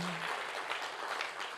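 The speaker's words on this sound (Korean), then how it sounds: "그렇게 하신 우리 주님께 큰 박수로 영광." A church congregation claps together in a sustained round of applause, a dense, moderately distant patter that holds steady for a moment before easing off.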